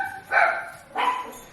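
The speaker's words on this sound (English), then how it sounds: "she was barking at the freaking FedEx man" A pet dog barks at a FedEx delivery man at the door, two loud, close bursts of barking with a brief pause between them.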